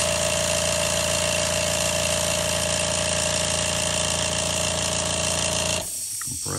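Air compressor running nearby in a lure-painting workshop, a loud, steady mechanical hum and rattle that holds constant for several seconds, then cuts off abruptly, leaving quiet room noise.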